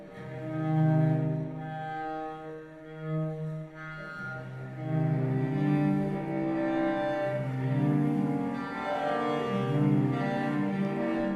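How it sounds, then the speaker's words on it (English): A bowed cello with circular bowing, moving between ordinario and sul ponticello, sustains slowly shifting tones, the timbre cycling from soft and airy to glassy and bright in repeating swells; quiet and alone. "It's just circular bowing."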